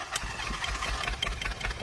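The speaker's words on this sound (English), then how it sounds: "It's running. On that. No spark plugs in the engine." A car engine runs with its cylinder 3 spark plugs removed, giving a steady, fairly loud idle with a low, rhythmic chugging pulse heard up close, with no voices.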